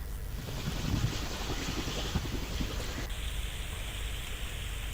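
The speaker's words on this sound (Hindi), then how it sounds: "देपालपुर में तेज बारिश का दौर जारी है और कई इलाकों में पानी भर चुका है।" Heavy rain pouring steadily during flooding in Depalpur, Indore, a dense hissing downpour with some wind buffeting, continuous and fairly close throughout with no talking.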